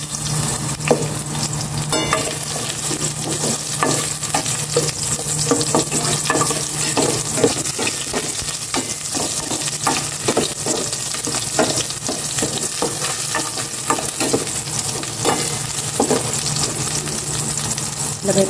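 Onions sauté in a pan for a vegetable dish, a continuous loud sizzle broken by scraping stirs and occasional clinks of a utensil, steady from start to finish with no talk.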